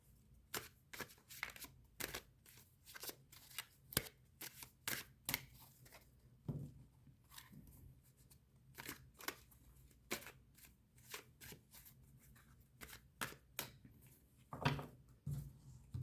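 Tarot cards being shuffled by hand, with repeated crisp riffles and snaps in an irregular rhythm, close but quiet, with no talking.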